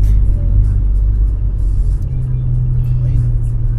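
A convoy of cars, including sports and electric models, drives past on a road in Tanay, Rizal, a steady close low engine rumble without a break.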